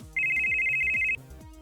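A bright electronic ring tone sounds alone in a quick rapid pulse for about a second as a call goes through on a futuristic comm link, over a faint low background rhythm.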